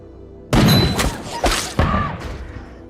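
Gunfire in an action film: three heavy, booming shots land in quick succession, each a sharp loud crack with a short rumbling tail, heard close and with no talk over them.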